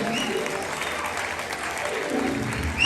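A wedding congregation claps continuously, a dense wash of applause that stays even and fairly close throughout.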